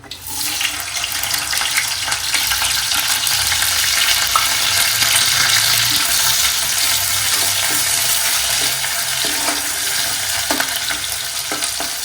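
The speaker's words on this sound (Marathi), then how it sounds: "तेल तापलं की आपण त्याच्यात कांदा आणि कढीपत्ता घालूया" Chopped onion and curry leaves hitting hot oil in a pan, giving a loud, steady, close sizzle and crackle that runs unbroken with no talking.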